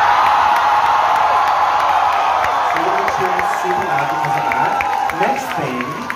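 Concert crowd cheering and whooping in Melbourne, a sustained loud roar of many voices that swells and fades, with a voice over it.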